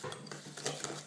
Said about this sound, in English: So I'm just creaming that together